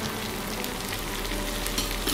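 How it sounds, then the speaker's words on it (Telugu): Bottle gourd pieces with turmeric fry in a pan, a steady close sizzle with faint crackles throughout. "ఇప్పుడు మనం తీసుకున్న ఈ సొరకాయ ముక్కల్ని వేసుకుందాము"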